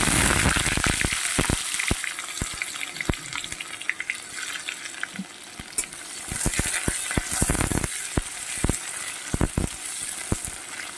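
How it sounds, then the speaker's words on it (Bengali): Sliced onion fries in a pan over spice tempering for a pumpkin-leaf dish, giving a continuous bright sizzle with sharp intermittent clicks and scrapes of stirring, close and steady throughout. "পেঁয়াজটা সামান্য একটু ভেজে নেব।"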